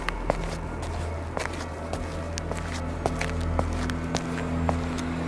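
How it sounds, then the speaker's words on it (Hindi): Footsteps of someone walking, a steady series of sharp, distinct steps over a low background hum, with no talk. "यह किसकी चलने की आवाज़ आ रही है?"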